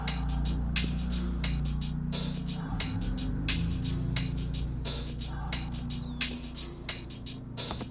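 Halftime beat main section, a loop of sharp percussive hits in an uneven, spaced rhythm over a low sustained bass bed, played alone with no voices.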